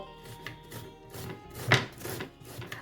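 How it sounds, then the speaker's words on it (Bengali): Rhythmic rasping strokes of a bottle gourd being grated, close up, with one slightly louder scrape midway. "গ্রেটারের বড় মুখটা দিয়ে লাউটাকে গ্রেট করে নেব"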